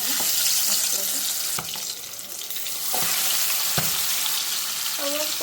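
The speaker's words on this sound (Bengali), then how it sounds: "এখানে তেল গরম করে নিচ্ছি, আমি এখানে আস্তে আস্তে দিয়ে দিব মশলাটা।" Spices are added to hot oil for a chicken curry, and a loud, dense sizzle fills the space close up. The sizzle dips briefly partway through and is broken by a few utensil knocks and stirring sounds.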